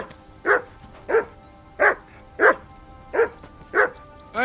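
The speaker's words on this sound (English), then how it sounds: "call off that dog and then we can talk" A dog in the video game Kingdom Come: Deliverance II barks loudly and close, seven evenly spaced sharp woofs about half a second apart, with no voices over them.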